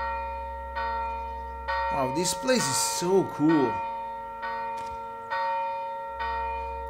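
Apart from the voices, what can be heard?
church bells ringing in the video game Gerda: A Flame in Winter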